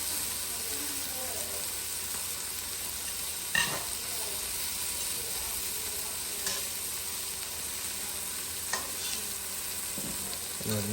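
Okra frying in bacon grease in a pan, a steady close sizzle with occasional scrapes and knocks of a utensil stirring.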